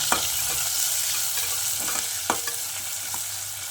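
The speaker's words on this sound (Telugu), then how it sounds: "ఇది మంచిగా దూరగా వేయిస్తున్నాను" Onions and cumin fry in oil with a steady sizzle while a utensil stirs and scrapes the pan, with a few sharper clinks standing out over the frying.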